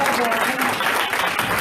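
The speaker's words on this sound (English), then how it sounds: "I want you to clap" A crowd applauds at a campaign event in a brief burst of dense, even clapping, with a voice speaking over it.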